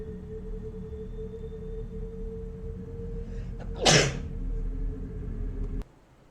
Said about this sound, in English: that sneeze just came out of fucking nowhere